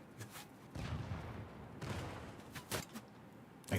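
Gunfire in the shooter game BattleBit Remastered, including a sniper shot: several sharp cracks and booms spaced irregularly over a few seconds, fairly loud with no talking.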